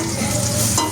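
Curry chillies and onions fry in a pan, a dense steady sizzle with stirring that fills the brief moment without any talk.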